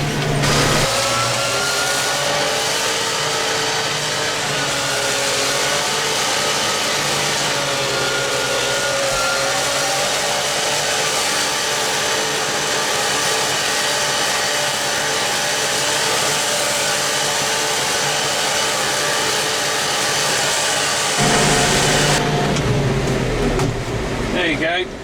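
A tractor drives around the headland of a grass field, mowing grass for hay, its loud steady engine and cab drone filling the air with someone talking over it before the engine note drops near the end.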